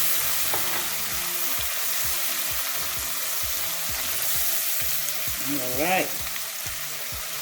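Garlic and spices frying in a pot for Haitian rice and pigeon peas give a steady close sizzle with low clanks of stirring, while music plays underneath and a voice speaks briefly near the end.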